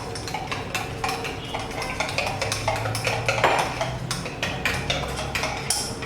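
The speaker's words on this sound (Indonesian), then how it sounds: "Terus aduk larutkan. Adukkan sampai rata men." A spoon stirs klepon-flavoured coffee mixed with hot water, clinking steadily and rapidly against the cup in close, repeated metallic ticks that run without pause and with no voices.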